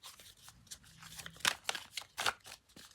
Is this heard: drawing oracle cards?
yes